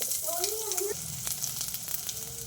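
Chopped onion frying in oil for a bottle gourd sambar, a steady close sizzle throughout, with a brief tonal wavering sound near the start.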